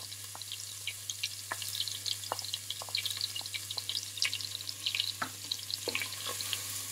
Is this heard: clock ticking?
no